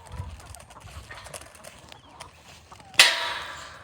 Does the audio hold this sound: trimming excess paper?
no